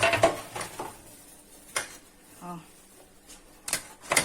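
A metal baking tray, oiled for grilling fish, is handled in a home kitchen with a few scattered clanks and knocks, near and moderately loud, while someone talks.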